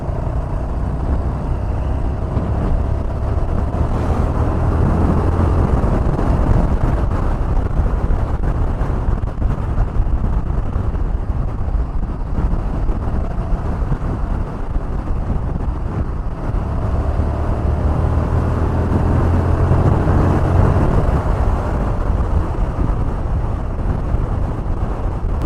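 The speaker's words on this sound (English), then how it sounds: "Just not used to this, getting battered by the wind." Heavy, continuous wind roar buffets a rider at speed on an unfaired naked sports motorcycle with no wind protection, a loud broadband rush that swamps everything else and barely varies in level throughout.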